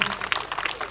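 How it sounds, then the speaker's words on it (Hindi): Applause from an audience at the Aamar Utsav festival evening in Burla, bursts of clapping heard close up, mixed with a voice over a loudspeaker. "जोरदार करताली दे जोरदार करताली हो"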